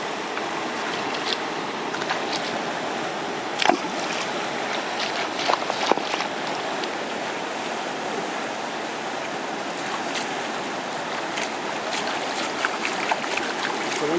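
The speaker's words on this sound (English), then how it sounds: "So the heavy rocks, we're gonna wash them off with all the dirt in this super ice cold water, which is mostly snow melt" Ice-cold snowmelt mountain stream water rushes steadily while heavy rocks are washed off in it, with occasional small splashes and knocks over the continuous close flow.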